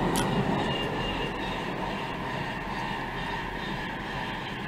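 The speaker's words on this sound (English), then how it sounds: "Damn trains." A train passes nearby as a steady, dense roar of wheels and rail noise that holds at an even level throughout. There is no talk.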